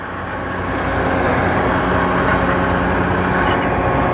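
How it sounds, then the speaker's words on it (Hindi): A road roller compacts freshly dumped fill on a road under construction, its engine a steady, loud, close droning rumble that holds at an even level throughout with no pauses. "अभी ये जी रोड रोलर यहाँ पर प्रेस कर रहा है, साथ साथ जो भी ताज़ा गैड़ा डाला गया है इसको यहाँ पर प्रेस कर रहा है।"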